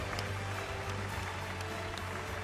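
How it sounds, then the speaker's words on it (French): An audience applauding musicians at the close of a singing competition final, dense clapping heard faint and distant, steady throughout with no voices. "Et on applaudit les musiciens"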